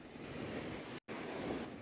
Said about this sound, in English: This water trickle's still going, getting a little closer, making its mounds.